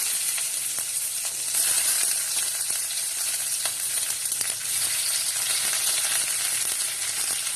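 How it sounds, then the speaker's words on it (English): Onion pieces fry with cumin seeds in a pan, giving a steady, dense sizzle with faint crackles and occasional light taps throughout, loud and close with no talking. "I'm going to put onion, few pieces of onion. I'm going to fry this first."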